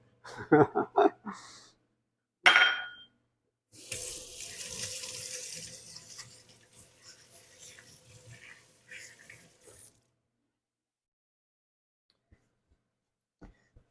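Hands washed under a running kitchen tap while cooking pan-seared chicken, a few seconds of close splashing and rushing water into a sink, preceded by brief clattering and followed by near silence.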